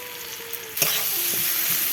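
Cumin, chilli and coriander powder frying and being stirred in a pan, a steady sizzle with a sharp scrape and clatter of the spoon partway through, then continuous hissing.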